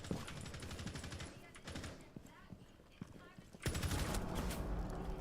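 Rapid gunfire crackles in Rainbow Six Siege, a fast series of sharp shots in the opening seconds and a dense burst near the end, heard under and between a player's talking.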